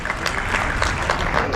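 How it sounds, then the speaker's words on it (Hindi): Brief burst of audience clapping at a Hindi kavi sammelan poetry gathering, dense and fairly loud, with voices mixed in. "एक बार तालियां बजाइएगा"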